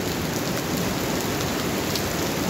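Steady, dense rain falls across the coastal town of M'diq in cold, wet weather, a loud continuous hiss of drops on surfaces with no pauses and no voices.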